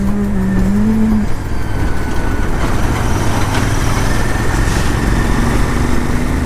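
A vehicle's engine runs continuously on reserve fuel near Chitradurga, making a loud, steady hum and drone with a faint pitch shift early on and no voices.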